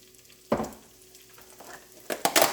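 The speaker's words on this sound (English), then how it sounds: "I like to saute my onions" Onions sauteing in avocado oil in a pan give a soft, continuous sizzle, with a sharp louder burst as they hit the oil and a few clattering stirs near the end.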